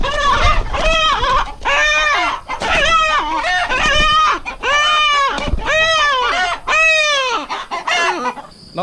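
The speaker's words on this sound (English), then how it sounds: "Not the snowflake cockerel that I was after." Loud, close calls from a young cockerel: repeated harsh clucking and strained crowing bursts, roughly one per second, with brief pauses between.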